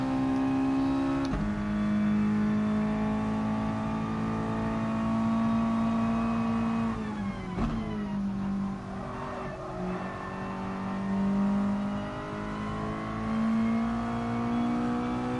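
Race car climbing the hill at Bathurst in a racing game, its engine droning in a loud sustained whine that shifts pitch through gear changes across the whole stretch.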